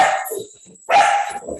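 A dog barks in a garden, two loud, close barks about a second apart, each followed by shorter yelping tails.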